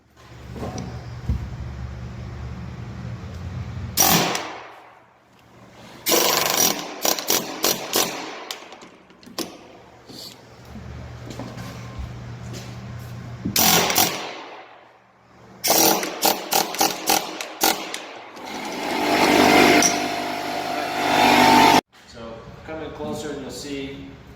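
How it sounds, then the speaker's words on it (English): A drill with a 1/2 inch bit bores mortise holes in oak for a rake, coming in loud repeated bursts with pauses between them and a low idle hum in the gaps. "you're drilling down with your 1/2 inch drill bit, and sometimes it'll catch an edge, especially on oak"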